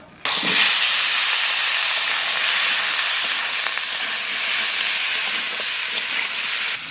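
Pieces of taro dropped into hot oil with cumin seeds and bay leaf, giving a loud, steady frying sizzle and hiss that starts abruptly and keeps going without letup, close up, with faint stirring clicks.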